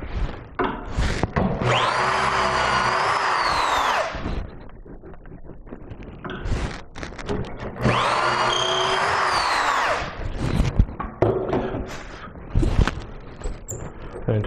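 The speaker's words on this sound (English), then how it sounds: "And we're going to drill number 1." A power drill whirs into wood in two long bursts, high-pitched and close, separated by clattering handling noises.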